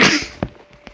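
A single loud sneeze from a person nearby, a breathy burst at the start followed by a few faint clicks and small sounds.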